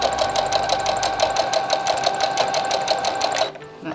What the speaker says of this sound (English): I'm just going to back tack to keep the stitches from running.